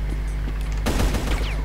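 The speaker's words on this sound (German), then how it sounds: "Ich schieße dich mal ab, bevor die anderen mich damit abschießen" Rapid gunfire in the shooter game Brutal Doom erupts after a quiet humming stretch, a close, loud burst of overlapping shots that carries to the end.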